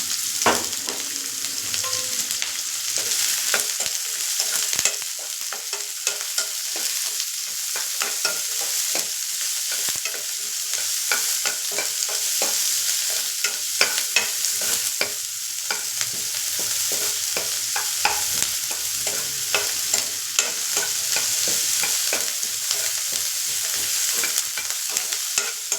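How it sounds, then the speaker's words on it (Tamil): Onion and curry leaves frying in a pan while being stirred, a continuous bright sizzle punctuated by frequent quick scraping and clinking strokes of the spoon, close and steady for the whole stretch, with no talking. "வெங்காயம், கருவேப்பிலை போட்டுக்கலாம்."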